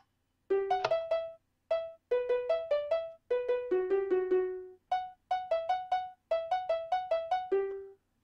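A plucked, marimba-like Minecraft note block melody played as a doorbell tune, short bright notes in quick phrases with brief pauses, clean and close, with no voices.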